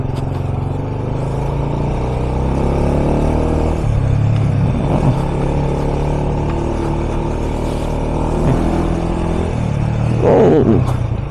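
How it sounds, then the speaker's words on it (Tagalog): A dual sport motorcycle riding off-road on a rural camp trail, its engine droning steadily and loudly throughout with a few surges of revving and rough bumps near the end. "kayang-kaya ni Malayang off-road dahil naka-dual sport tayo"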